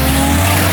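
A Nissan Skyline R34 roars loudly up close, a brief, harsh burst of engine noise that stays full and constant with no pause.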